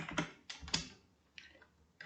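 Data is typed on a computer keyboard in a quiet room, several soft, close key clicks in short bursts with brief pauses between them.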